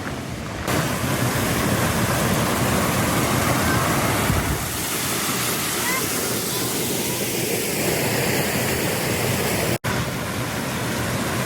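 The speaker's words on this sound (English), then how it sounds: "Waterfall's pretty loud." Aira Force waterfall in the Lake District roars loudly and continuously at close range, a thick, unbroken rush of falling water that fills the whole scene with only a momentary dropout near the end.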